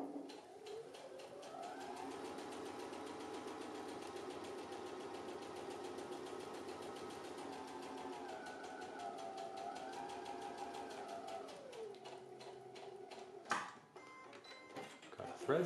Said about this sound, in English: I'm going to sew close to those stitches, but not on them